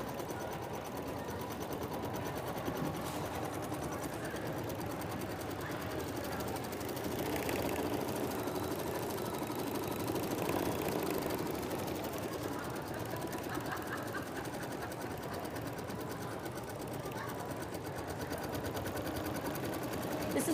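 An embroidery machine stitches a two-sided project in a sewing room, its rapid needle running as a steady, even mechanical drone held close and unbroken for the whole stretch, with a brief shift in tone midway.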